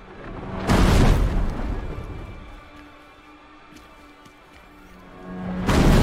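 Two heavy booming sonic blasts in the video game Bramble: The Mountain King, a long roaring burst near the start and another rising at the end, with a quieter rumble between.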